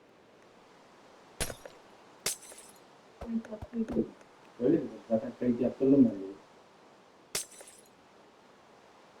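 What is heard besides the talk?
glass breaking in the video game Minecraft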